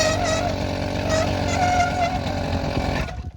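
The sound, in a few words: small two-stroke engine bicycle stalling after the clutch is dropped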